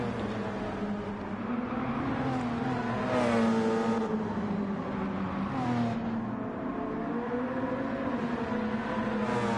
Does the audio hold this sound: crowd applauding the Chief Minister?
no